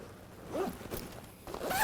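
Zipper on the top compartment of a Tubu backpack, pulled in a few short, scratchy runs close by, with no talking.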